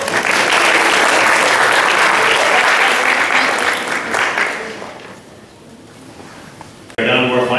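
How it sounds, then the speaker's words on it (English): An audience at a school spelling bee applauds the spellers tied for third place, loud dense clapping that swells, gradually thins and fades, before a voice starts speaking near the end. "so give them a round of applause."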